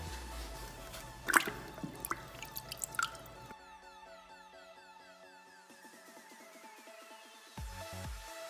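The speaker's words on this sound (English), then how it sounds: "you're gonna wanna dip your magic eraser and some water" A magic eraser dipped into a plain bucket of water, with irregular close drips and small squishy splashes clustered early, then quieter liquid trickles and a soft final slosh.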